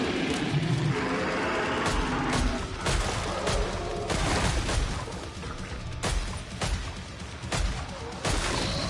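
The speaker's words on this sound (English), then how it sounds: "explosion bullets are fucking ridiculous" Explosive bullets firing in the video game Killing Floor 3: a rapid series of loud, sharp blasts and booms, some overlapping, over a dense, noisy battle din.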